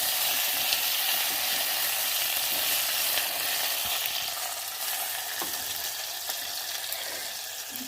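Mutton curry ingredients sauté in a pan with salt, a dense steady frying hiss close by, with occasional soft stirring knocks.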